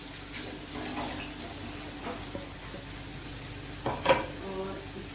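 Capsicum stirred into a chicken mixture in a pan: soft sizzling throughout, with a few scraping stirs and a brief clatter of the spoon near the end, close and quiet, with no talking.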